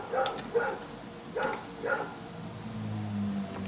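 A dog gives several short sharp barks and yips indoors, close and fairly loud, with a faint whimpering tone toward the end over a low background hum.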